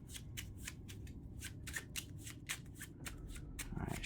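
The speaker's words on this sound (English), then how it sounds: "Do a little bit of a shuffle here." HeroQuest treasure cards are shuffled by hand in quick riffling bursts, close and crisp, with no one talking.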